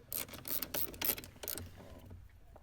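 A hand ratchet or small power driver tightens a 10mm bolt holding an immobiliser ECU on a Peugeot 107, a run of quick close mechanical clicks and whirring bursts that fades to quiet near the end.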